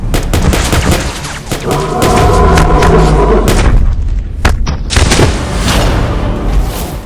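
Loud gunfire and heavy booms from a Chinese monster-film trailer fill the whole stretch as dense, overlapping blasts and thuds under a thick action score.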